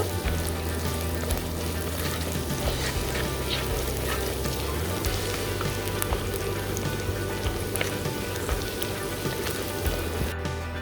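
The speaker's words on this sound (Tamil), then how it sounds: "வெங்காயம் நல்லா வதங்கிடுச்சு" Onions sautéing in a pan with a little salt, a dense, even sizzle crackling continuously for about eleven seconds at moderate level, with faint stirring and no talk.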